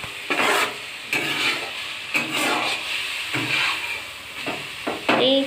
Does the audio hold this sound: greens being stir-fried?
yes